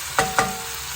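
Tomatoes fry in a curry pan while being stirred, with a constant loud sizzle and two quick scraping strokes of the spoon near the start.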